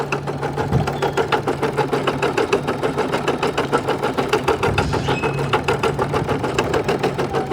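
A portable embroidery machine stitches outdoors by a waterfront, giving a steady, rapid mechanical rattle of needle strokes that runs evenly and close throughout with no pauses.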